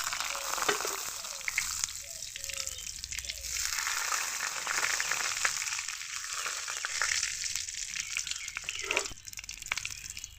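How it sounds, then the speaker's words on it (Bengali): Bay leaves, cumin and a dried red chilli fry in hot oil, making a close, steady sizzle with scattered crackles and pops that continue without pause. "কয়েকটা তেজপাতা, একটা শুকনো লঙ্কা ফাটিয়ে দিচ্ছি।"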